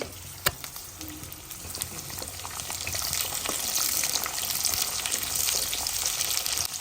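Missi dal ingredients frying in hot oil in a pan, a steady bright sizzle that swells over the last few seconds, with a sharp clink near the start and no talking.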